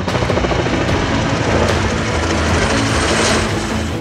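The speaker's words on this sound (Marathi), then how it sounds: "Boeing C H forty seven Chinook हे अमेरिकी सैन्य दलांच्या ताफ्यातील अवजड मालवाहू हेलिकॉप्टर आहे" A Boeing CH-47 Chinook heavy-lift military helicopter flies with a loud, steady, dense rotor and engine roar that never lets up, and no voices over it.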